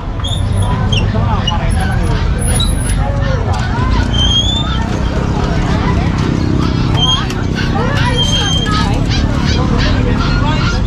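Many geese honk over and over in a loud, crowded outdoor livestock market din in Bocaue, with people talking throughout.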